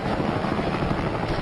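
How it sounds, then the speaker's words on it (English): A Fokker D VII biplane diving in a head-on pass during a dogfight, its engine a loud, steady roaring drone that holds unbroken throughout with no voices. "Suddenly, one Fokker dives towards him in a head-on pass."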